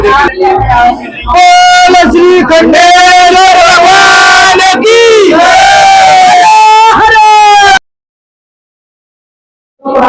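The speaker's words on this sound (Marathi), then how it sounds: "मंदिरात सकाळपासून खूप गर्दी आहे" A dense crowd of devotees at the ancient Khandeshwar Shiva temple in Nandgaon on Mahashivratri makes a loud, continuous roar of voices and chanting shouts, then cuts to silence near the end.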